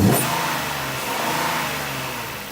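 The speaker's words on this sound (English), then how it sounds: "give it a little rev." A car with a new intake revs up, a brief sharp burst at the start settling into a loud, sustained engine roar that swells slightly before easing, with no voices.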